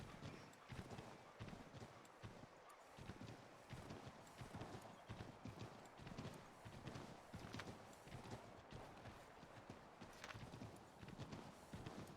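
Horse hooves clip-clopping steadily in Assassin's Creed 3 Remastered, a continuous rhythmic trot of many close hoofbeats over faint game ambience, with no talk.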